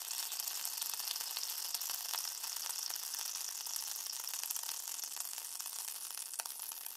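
Onion and garlic sautéing with chicken thighs in a hot pan, a steady bright sizzle with crackling spits running throughout, close and alone with no voices.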